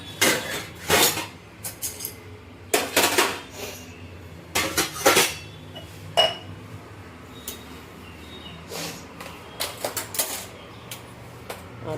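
Pots, pans and dishes clatter and clink in a home kitchen sink as they are washed, with sharp clustered knocks and scrapes in irregular bursts, close and fairly loud, no talking.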